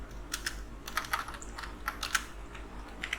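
Computer keyboard typing of game code in Unity, a steady run of close, crisp keystrokes with irregular rhythm and short pauses, no voices.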